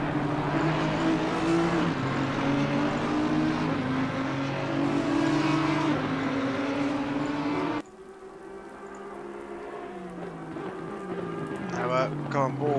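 GT3 race cars in a sim racing game at Zolder, loud sustained engine drone and whine that shifts pitch as the car accelerates, with a sudden change in tone partway through.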